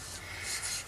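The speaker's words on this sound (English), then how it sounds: "and that essentially is all the sanding done" Close, quiet rasping strokes of sandpaper rubbing against the edges of a wooden coaster, a brief continuous scratchy friction.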